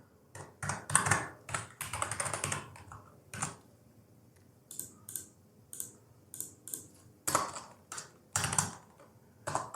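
Code being typed on a computer keyboard in VS Code, close and clear, with quick bursts of key clicks separated by short pauses and several sharper, louder keystrokes.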